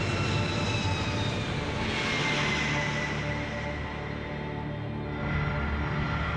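A C-5 military transport's four jet engines roar close by in a loud, sustained rumble with whining tones that shift in pitch, heard alone for over six seconds.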